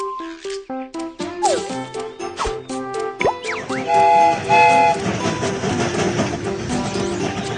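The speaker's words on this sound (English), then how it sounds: "The train is about to start. Let's set off." A cartoonish game-style train starts up: a chugging rhythm with bright musical chimes and whistle-like tones building into a busy, steady run.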